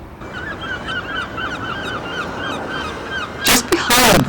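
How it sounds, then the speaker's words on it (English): Gulls call repeatedly around the busy fishing harbour at Looe, their cries rising and falling at a moderate distance over a steady background murmur, with louder noisy bursts near the end. "where gulls clamour for fish"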